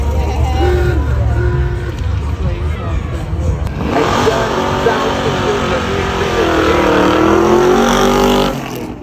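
Retro cars at a Ford track show during a car festival: engines rev and accelerate past at close range over a steady crowd murmur.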